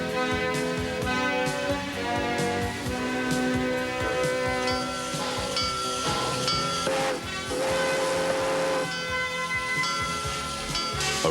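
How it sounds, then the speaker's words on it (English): An old-fashioned steam engine train on a theme-park railway at Busch Gardens lets out steady, loud whistle tones layered over continuous hissing steam, with rumbling machinery underneath throughout. "Around on one of the Transvelt Railway's old-fashioned steam engine trains."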